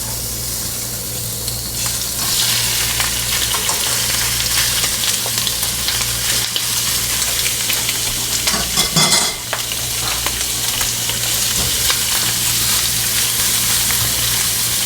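Shrimp frying in garlic butter in a hot pan, stirred with two utensils: a loud, continuous sizzle over the whole stretch with scraping and clacking from the stirring, with no talk.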